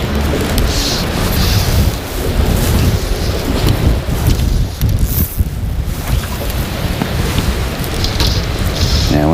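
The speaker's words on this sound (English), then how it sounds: "Yeah, wind just kills it." Strong outdoor wind roars and buffets the microphone without a break, loud and broadband, with faint water and boat-like noise underneath and brief speech buried in it.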